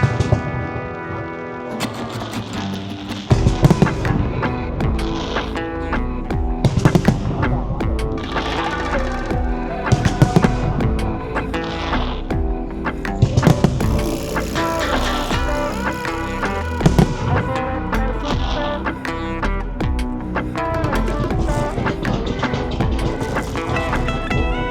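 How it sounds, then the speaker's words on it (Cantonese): Fireworks at a Lunar New Year cherry blossom show in Meizhou burst directly overhead, loud booming explosions and crackles recurring every few seconds over a continuous roaring wash of sound. "我哋極少機會可以感受到呢直接喺頭頂度爆開嘅煙花"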